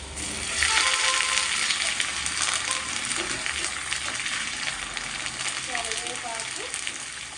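Curry leaves crackle and sizzle loudly and steadily in hot oil while tempering pappu (dal), a dense, continuous frying hiss close by that lasts the whole time.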